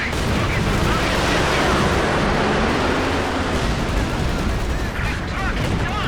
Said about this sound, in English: there goes the Katyusha